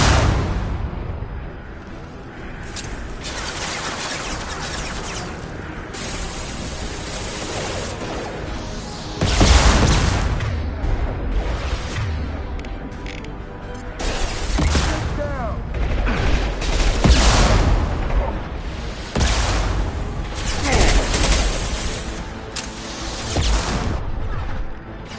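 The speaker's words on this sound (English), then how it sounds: "Firing at him!" Dense, sustained gunfire from the video game Mass Effect 2, loud bursts and booming impacts layered over continuous combat noise, with a voice occasionally shouting over the firefight.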